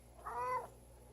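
A single cat meow, near and clear, rising and falling over about half a second against a quiet room background.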